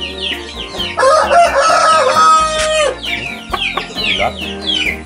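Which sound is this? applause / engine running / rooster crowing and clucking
rooster crowing and clucking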